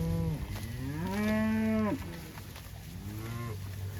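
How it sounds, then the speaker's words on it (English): Cattle in a cow/calf mob grazing a pasture of Sericea Lespedeza let out a loud, drawn-out moo that rises and holds before breaking off. A second, softer moo follows, and no one speaks. "They're just munching it. That cow's munching it there."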